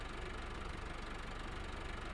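A steady, rough mid-pitched drone from an MTZ tractor engine idling with a sprayer attached in Farming Simulator 15, constant and unchanging throughout.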